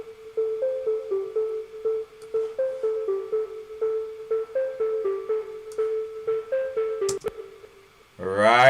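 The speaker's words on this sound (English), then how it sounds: "arpeggiation, I guess we could call it, and that's done on the Arturia Jupiter modeling synth here" A bright synth arpeggio from an Arturia Jupiter modeling synth pulses in a steady repeating pattern of short plucked notes, then a burst of filtered noise swells in at the end.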